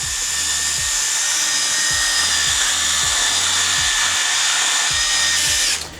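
A handheld power tool spins up close, whirring steadily as it trims lumps and bumps off a foam insert for a Makita Makpac case, its pitch rising and falling in regular passes before it cuts off at the end.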